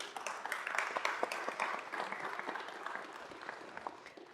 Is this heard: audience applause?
yes